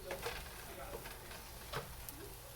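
Cabbage thoran frying and being stirred in a pan, a steady soft sizzle with a few scraping stirs of the spatula.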